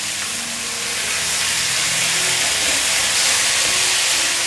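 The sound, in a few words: stir-frying shredded bamboo shoots in a wok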